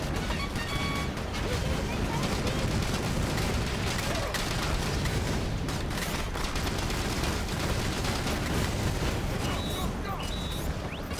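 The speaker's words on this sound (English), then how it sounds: "Alright, boys, come on, return fire!" Dense, continuous gunfire and explosions from a Battalion Wars battle rumble as a thick wall of shots and booms throughout, loud and unbroken, with a voice talking over the fighting.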